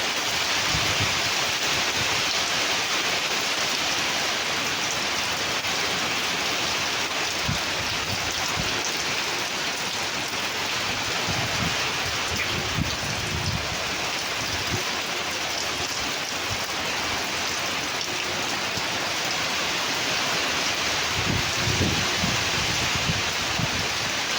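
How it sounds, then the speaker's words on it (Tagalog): Steady heavy typhoon rain roaring continuously with gusty rushing wind, loud and close throughout, occasional louder bursts, in Angeles City, Pampanga. "Malakas yung hangin."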